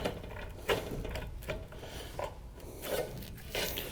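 Metal valley trim for roofing is cut with hand snips, producing a steady sequence of rasping, crunching cuts at close range over a noisy background, without talk.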